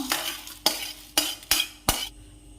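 Rice is dry roasted in a pan with a utensil for an idli podi spice powder, giving soft grainy rustling and four or five sharp scraping strokes at a steady beat, close and fairly quiet with no talk.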